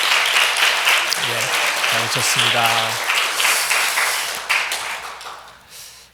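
Sustained applause from a church congregation at a Sunday service, a dense, steady clatter of clapping for several seconds, with a voice speaking briefly over it before it fades.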